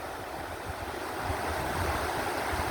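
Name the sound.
flood-swollen river rapids, kayak riding the waves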